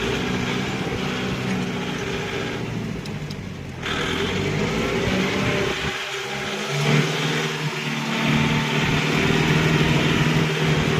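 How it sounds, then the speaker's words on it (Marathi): A Kubota MU5502 tractor engine runs steadily while the tractor drives over rough, potholed ground, with a continuous loud drone and a few shifts in load, and no talking. "मी खड्ड्यातनं बिड्ड्यातनं चालवतो ट्रॅक्टर"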